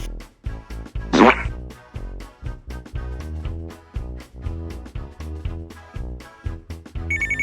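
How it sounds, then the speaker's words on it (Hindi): A phone rings in a children's toy-clinic play scene, its ringtone pulsing in a quick, regular pattern of repeated notes that sounds near and bright. "मुझे लगता है तुम्हारा फोन बज रहा है।"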